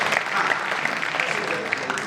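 An audience at a Hindi comic poetry gathering claps to welcome a poet, a brief, fairly loud burst of applause lasting only a couple of seconds.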